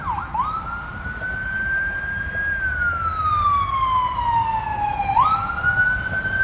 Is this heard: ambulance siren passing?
yes